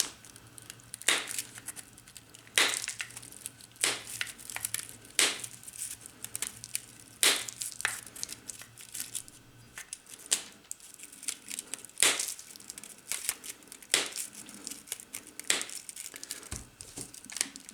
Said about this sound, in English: All these exterior windings, every one needs cut,